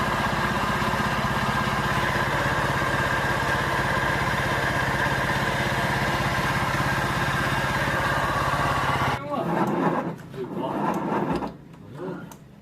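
Honda Vario 125 scooter engine idling rough with a steady, dense rumble and rattle, loud and close, then cutting off partway through, leaving scattered clunks and handling noises.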